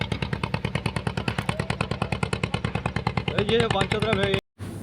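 A boat carrying sand chugs past with its engine firing in a fast, even pulse, close and loud; a voice talks over the engine, and the sound cuts out abruptly near the end.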